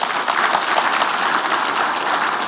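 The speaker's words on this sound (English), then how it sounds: "Let's give them a quick round of applause" An audience at a keynote gives a brief round of applause, a dense and steady clatter of many hands heard clearly throughout.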